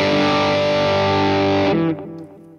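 An electric guitar with a distorted drive rhythm tone rings out as a thick, sustained chord that cuts off near the end and decays into quiet.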